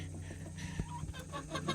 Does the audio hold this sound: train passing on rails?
no